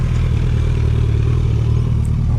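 A second-generation Suzuki Hayabusa motorcycle engine runs at a street meet, a close, steady low rumble with a slight mechanical clatter.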